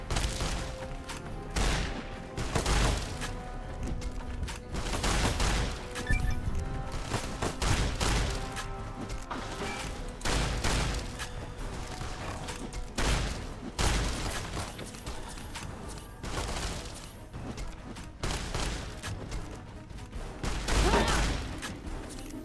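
Rapid gunfire bursts from weapons in the video game Fallout: New Vegas, loud and dense, repeating steadily throughout with scattered louder shots and brief booms.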